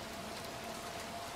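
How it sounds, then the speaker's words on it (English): Steady rain falling in a video game, a constant soft hiss of drops on surfaces, even and unbroken, with a faint tonal hum beneath. "I wanna get out of the rain."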